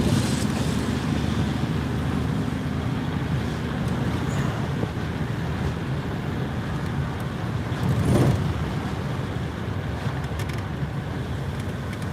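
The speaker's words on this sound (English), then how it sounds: "a special note of thanks to Larry Whitney, who's been working on this car, got it up and running" An old car driving along a road, its engine giving a steady, rumbling drone mixed with road and wind noise, continuous and fairly loud from the inside with no talk.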